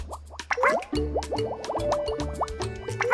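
Cartoonish bubble pops and plops from a Yoshi platform game, a busy string of quick, bright bubbly blips over a steady game music bed, fairly loud throughout.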